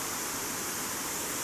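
Shallow river water flowing with a slow current makes a steady, even rushing wash that holds at one level throughout, with no voices over it.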